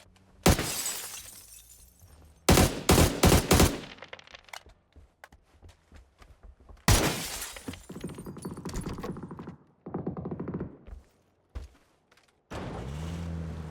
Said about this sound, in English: Couple of shots at Batulins on Everest.